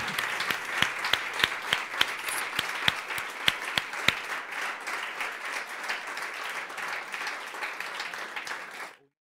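Audience applause for a singer at a songwriting talk, opening with a few distinct sharp claps over a steady crowd clapping that holds for several seconds before cutting off to silence.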